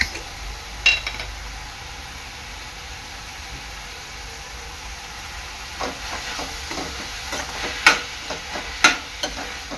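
Spring roll vegetable filling with red chili sauce being stirred in a hot pan, a steady soft sizzle with intermittent scraping stirs growing more frequent toward the end, close and alone without talking.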